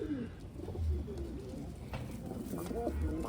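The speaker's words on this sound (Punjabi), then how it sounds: "ਆ ਕਬੂਤਰ ਸੇਲ ਜੀ ਆ ਦੋਵੇਂ ਸ਼ਾਹ ਪੂਸ਼ਾ ਵੀ ਤੇ ਆ ਵੀ ਲਾਲ" Pigeons coo close by in soft, repeated throaty calls over a steady background hum, with a few brief chirps mixed in.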